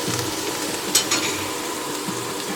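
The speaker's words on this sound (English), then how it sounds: "So we will fry these for about a minute." Spices, chili and coriander frying in a pan of oil for an Afghan spinach dish, a steady close hiss and sizzle with a couple of brief stirring clatters, no talking.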